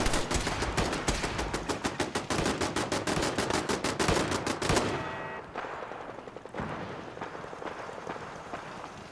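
Rapid automatic gunfire in Fallout 4 rattles out in loud, dense bursts for about five seconds, then gives way to quieter, scattered shots and a fading background.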